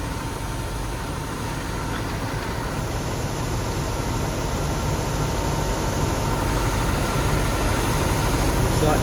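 Farm tractor engine running at a steady idle, a continuous rumbling drone that stays level and fairly close throughout, with no voices over it.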